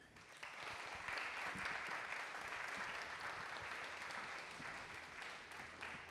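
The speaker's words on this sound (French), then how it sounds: "je pense qu'on peut les applaudir" After a presentation at an urban-greening conference, an audience breaks into a full, sustained round of applause that swells quickly, then holds steady before slowly thinning toward the end.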